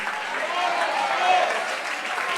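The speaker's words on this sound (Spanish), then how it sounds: "Si usted lo cree, dele otro aplauso a Él." Church congregation applauding during a Spanish-language sermon, a short burst of sustained clapping and crowd noise with voices mixed in.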